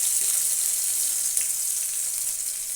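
Onions frying in a pan for honey chilli potato, a steady bright sizzle that stays constant and fairly loud throughout, alone with no voices.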